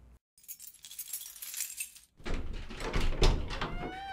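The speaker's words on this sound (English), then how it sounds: "Do you have the key that Weathers gave you for the factory door?" In a radio drama effect, a key works the lock of a factory door, giving a light jangle and click, then the door opens with a louder, fuller creak and scrape, close and without talk.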